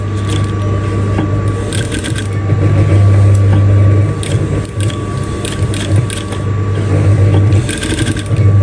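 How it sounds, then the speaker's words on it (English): Sewing machine stitching a decorative cut-out design on a dress sleeve, a loud close steady mechanical hum with rapid needle clatter running throughout. "So that's how I'm going to sew everything."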